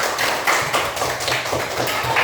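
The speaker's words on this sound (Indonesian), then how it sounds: "Oke, tepuk tangan dong" Fifth-grade pupils in a classroom clap hands in a dense, steady patter of many overlapping claps, fairly close and continuous throughout.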